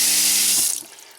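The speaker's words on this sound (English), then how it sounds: "so if I kick on the water" A travel trailer faucet runs steadily under pump pressure, a loud close hiss of flowing water that cuts off abruptly after under a second, leaving a faint trickle.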